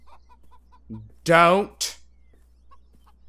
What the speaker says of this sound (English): Fucking chickens. Fucking roosters. Or chickens.